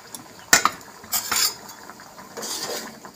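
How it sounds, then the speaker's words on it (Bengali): A metal lid comes off a pot of cooked masoor dal with a sharp clank, followed by scraping and clinking of utensils against the cookware and a short metallic rattle near the end. "ঢাকা দিয়ে রেখেছিলাম। ঢাকাটা খুলে দেবো।"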